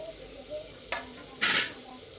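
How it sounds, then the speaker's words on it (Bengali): Cut drumstick stalks drop into tomato and spice masala frying in a pan, setting off a short, close burst of hissing sizzle after a soft knock. "এবার কেটে ধুয়ে রাখা ডাঁটাগুলো এর মধ্যে দিয়ে দিচ্ছি।"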